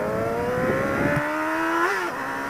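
A motorcycle engine hums steadily during a ride toward the beach, its pitch rising briefly before settling again; the tone is close and continuous, with no voices over it.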